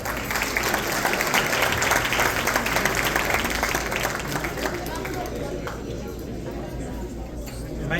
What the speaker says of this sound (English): So big round of applause now for Fawad Zafar.